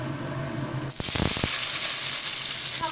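Winter vegetables such as carrots, beans, cauliflower and peas are tipped into hot spiced oil in a pan, with a few clattering knocks, then a loud, steady close sizzle.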